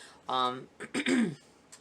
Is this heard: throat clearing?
yes